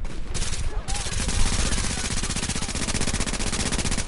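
Rapid automatic gunfire firing incendiary fire bullets in The Division's Dark Zone, a dense, continuous rattling stream of shots that runs steadily for several seconds after a brief, rougher opening.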